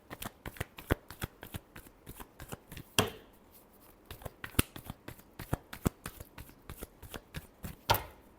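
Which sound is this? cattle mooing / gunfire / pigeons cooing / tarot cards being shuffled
tarot cards being shuffled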